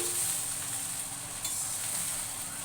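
Carrots, beans, nuts and raisins are stirred together in a hot pan, making a continuous soft sizzle with one brief clink of the utensil partway through and no voices.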